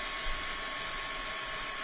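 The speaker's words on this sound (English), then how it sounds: "give those a little whiz dry" A handheld heat dryer blows steadily on paper craft pieces for a folio, a continuous close whooshing hiss with an even motor whine and no pauses or voices.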